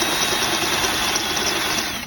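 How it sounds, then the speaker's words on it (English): A power drill spins a step bit to deburr and bevel a hole in metal on a DIY yard trailer build, giving a steady close whine and grinding buzz that runs unbroken before it trails off. "use this step bit and kind of bevel it and deburr it"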